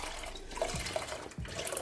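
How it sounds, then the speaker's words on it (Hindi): One litre of milk poured into a pot for falooda makes a brief steady liquid pour, close and continuous with slight splashing. "अब हम जो है इसमें 1 लीटर दूध वो ऐड कर देते हैं"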